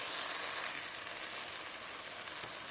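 Spice pastes of dried chilli, ginger, cumin and coriander sizzle steadily in hot oil for a Bengali fish-head mung dal, a continuous loud hiss and crackle with no voices.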